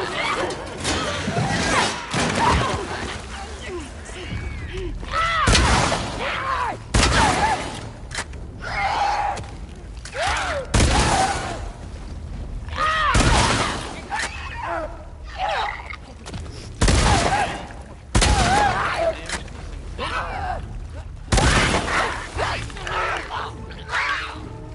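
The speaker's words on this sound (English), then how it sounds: "was 4 incendiary shotgun shells and 2 regular ones" Incendiary and regular shotgun shells fired in The Last of Us Part II, around six loud sharp booms spaced a few seconds apart, with someone talking between the shots.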